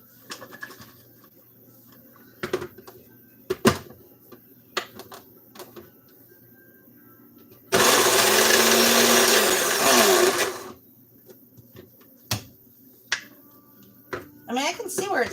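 A kitchen blender chops ingredients for a D&D Hero's Feast Vedbread, its loud motor whirring steadily for about three seconds midway and standing out over scattered clicks, taps and brief talk.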